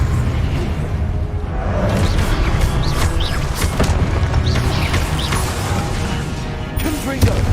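Confringo blasting-spell explosions in the Hogwarts Legacy video game: dense, continuous booming and crashing combat noise with whooshes layered over it, loud throughout.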